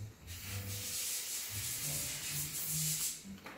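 A hand-held art knife scrapes and shaves a plastic custom figure part, a close steady rasping rub that carries on without a break and rises slightly toward the end.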